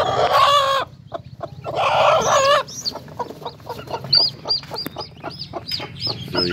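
Chickens and newly hatched chicks in a backyard chicken yard make loud, close clucking and squawking, followed by a series of high, rising chick peeps that come repeatedly through to the end.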